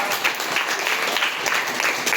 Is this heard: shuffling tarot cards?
no